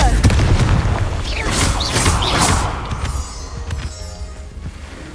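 A Confringo blasting spell explodes in Hogwarts Legacy: a loud boom and crash with crackling debris, then fading rumble and scattered rattles.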